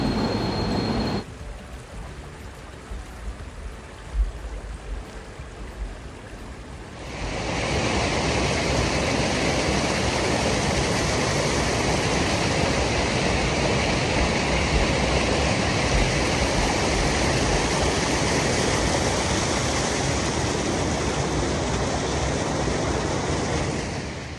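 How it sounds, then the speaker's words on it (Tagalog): Steady, loud rush of river water fills the scene after a brief quieter start, a continuous broadband roar with no voices. "ang lagas-gas ng tubig, sobrang nakaka-relax"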